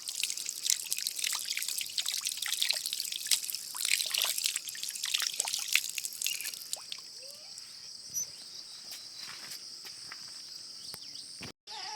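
Water runs from a village water spout in rural Nepal, a steady hissing trickle close by that thins out after several seconds, with insects chirping faintly in the background.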